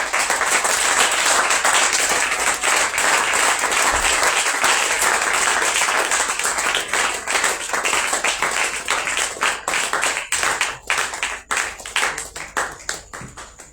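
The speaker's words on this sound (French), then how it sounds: "le prophète Joseph Perfection, sous vos acclamations." Audience applause and cheering fill a church hall as a prophet is welcomed at the opening of a Purim prophetic conference, a dense, sustained roar of clapping that thins into more separate claps toward the end.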